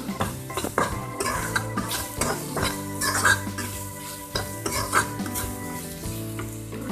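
Spices and turmeric powder being stirred together in a pan, with steady scraping and clinking of a utensil against the metal over a soft continuous sizzle, close and moderately loud throughout.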